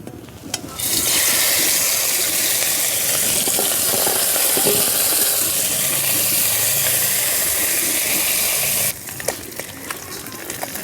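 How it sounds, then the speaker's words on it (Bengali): Koi fish fry in hot mustard oil in a village-style kadai, giving a loud, dense, close hissing sizzle that runs steadily for several seconds, then cuts off abruptly, leaving a few clinks and softer rustling. "কড়াইয়ের মধ্যে এখন সর্ষের তেল দিয়ে মাছগুলো ভেজে নেব"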